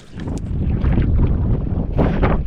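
Heavy sea wind buffets a fishing boat on open water, a loud blustery rush that swells after a quieter start and keeps gusting to the end.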